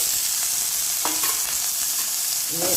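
Drumstick leaves, sliced onion, curry leaves, green chilli, turmeric and grated coconut stir-fry in a pan, with a steady close sizzle and occasional scrapes and clicks of stirring and no talk.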